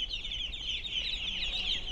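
A large flock of about a hundred ducklings chirping and peeping together in a tiled bathroom, a dense continuous chorus of high calls, close and fairly loud.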